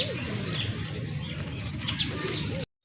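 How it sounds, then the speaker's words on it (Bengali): A pair of active Jak pigeons cooing in soft repeated rolls, with faint flapping and chirps nearby, ending abruptly in silence. "মাশাল্লাহ দেখেন একজোড়া জাক কবুতর"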